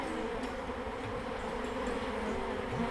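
Honeybees buzzing in a hive box, a steady low droning hum of many bees, close and continuous, with no talk over it.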